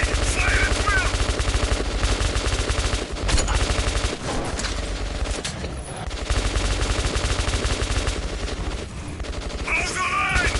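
Sustained automatic gunfire and bursts of shots from the video game Metro 2033 Redux, loud and dense for the whole stretch, with combat sounds layered throughout.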